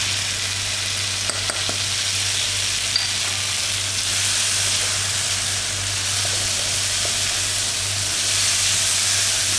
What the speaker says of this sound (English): now I am adding the masalas